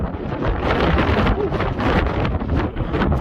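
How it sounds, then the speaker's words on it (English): Strong wind gusts roar across the open deck of the WWII cargo ship Jeremiah O'Brien in San Francisco, a loud continuous buffeting rush against the microphone with no talk. "That's windy today."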